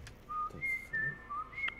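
Nancy whistles in the game Texas Chainsaw Massacre, a short tune of four or five clear sustained whistled notes with brief gaps, fairly close and alone.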